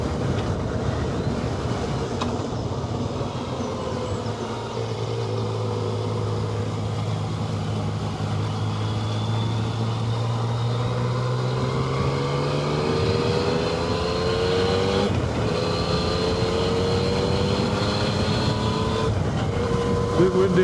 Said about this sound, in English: This is a very strong headwind, this.